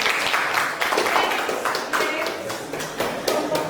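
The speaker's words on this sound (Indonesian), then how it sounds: "tepuk tangan buat semuanya" A burst of clapping from a group, with uneven rhythmic bursts of applause and a voice faintly mixed in.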